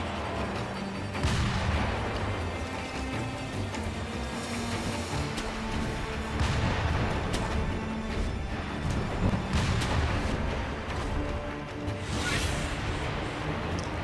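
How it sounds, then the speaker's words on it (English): Enemies fire at the player in the game Sekiro: Shadows Die Twice, with sharp shots and heavy blasts breaking through a dense, rumbling battle din. "You see them shooting at us."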